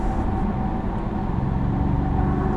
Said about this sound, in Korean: 조금만 가속 페달을 밟아도요, 우웅 하는 소리가, 앞에 곰들이 사는지 모르겠는데 우웅 하는 소리가 앞에 대시보드 쪽에서 이렇게 납니다